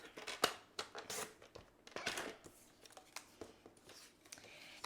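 Scissors cut through a piece of card for a handmade floating card, a quiet series of crisp snips and paper rustles in uneven bursts, close up with nothing else heard.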